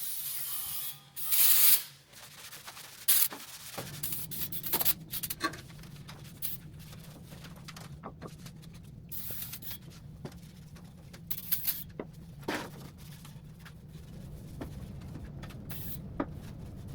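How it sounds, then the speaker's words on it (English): Brake cleaner hisses in loud spray bursts onto oily metal of a 2007-2014 GMC Sierra truck, then a long stretch of soft scrubbing and rubbing as it is wiped down. "I'm going to do some brake clean and wiping to just go ahead and clean it up a bit."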